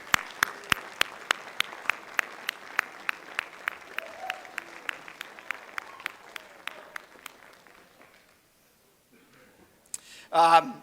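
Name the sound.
audience applause at commencement ceremony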